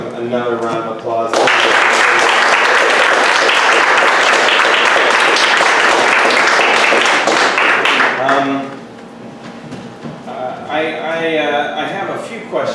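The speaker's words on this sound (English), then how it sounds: "can we give them another round of applause?" An audience applauds playwrights at a stage show, dense sustained clapping for several seconds after a brief voice, then fading into scattered claps as a speaker talks again.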